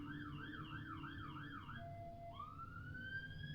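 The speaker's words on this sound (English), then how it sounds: "I'm just going to let that siren go past." An emergency siren wails in a rapid up-and-down pattern, then shifts to a long rising tone, heard from a moderate distance over steady traffic rumble.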